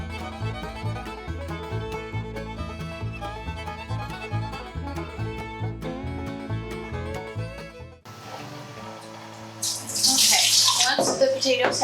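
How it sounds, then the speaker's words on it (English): Cold tap water gushes and splashes steadily over potatoes in a sink, following a stretch of background music. "we're just going to run the cold water over it"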